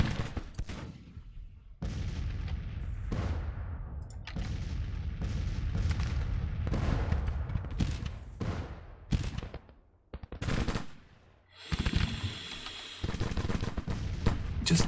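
Gunfire and artillery from a Civil War battle in the strategy game Grand Tactician, a series of booming cannon shots and crackling musket volleys in irregular bursts, with reverberant tails and short gaps between salvos.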